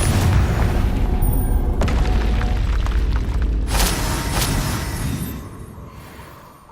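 A Confringo fire spell bursts in Hogwarts Legacy, a loud, deep booming explosion with a heavy low rumble that holds for several seconds, then fades away.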